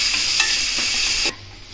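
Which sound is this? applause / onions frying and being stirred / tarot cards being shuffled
onions frying and being stirred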